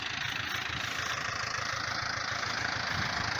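A Yanmar FX 305 small tractor engine runs steadily while raking alfalfa hay, with a low, rhythmic chugging throb and a broad hissing hum over it, continuous and close.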